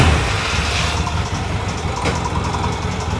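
A 1978 Yamaha XS650 motorcycle engine running just after being started following winter storage, a steady, loud, close mechanical drone with no pauses and no talk.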